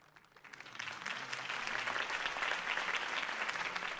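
Crowd applause after a campaign speech in the video game Batman: The Telltale Series, a dense, steady wash of many hands clapping that swells within the first second and holds loud and even to the end, with no talk over it.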